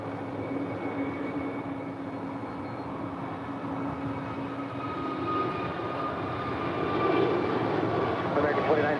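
An American Airlines Airbus A321neo taking off at LAX: a steady engine roar that swells toward the end, heard at a distance beneath a voice speaking.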